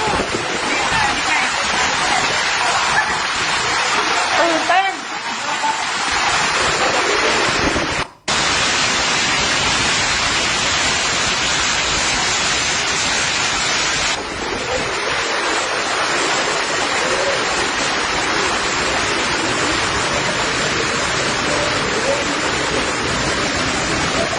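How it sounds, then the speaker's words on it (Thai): A hailstorm at Rajamangala University of Technology Lanna roars as a dense, steady wash of noise from hail pelting down, loud and continuous with a brief break partway through. "มีคลิปพายุลูกเห็บ ในมหาวิทยาลัยเทคโนโลยี โพลีเทคนิคล้านนา"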